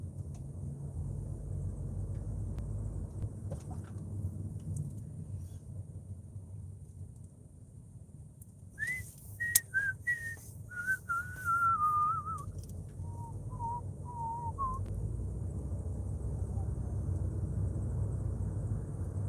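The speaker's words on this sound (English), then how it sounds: "Sorry, I was whistling." A person whistles a short, wavering melody of several sustained notes, faint over a low background rumble of traffic.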